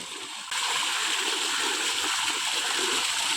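Water gushes steadily from the outlet of a farm motor pump in a coconut grove, a loud continuous splashing rush that starts abruptly after a brief quieter moment and holds close and even throughout.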